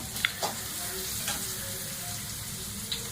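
Finely chopped green chillies fry in hot oil in a pan, giving a steady soft sizzle with a few faint clinks and stirring sounds, with no talk.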